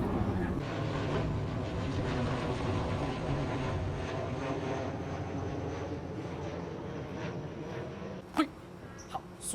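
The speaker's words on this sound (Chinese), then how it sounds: "刚刚就有看到有很多的飞机飞过" Aircraft flying overhead near Subang airport in Malaysia make a steady, broad roar that lasts throughout, with a few brief sharp knocks near the end.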